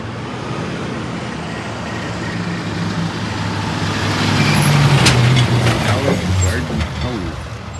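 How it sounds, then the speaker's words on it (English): A heavy truck engine rumbles close by, its low drone swelling louder mid-clip and easing off, with an air brake hiss and passing traffic around it; a police stop for a tow truck arrival. "tow truck just got here"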